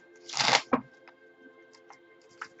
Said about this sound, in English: we're going to go ahead and shuffle these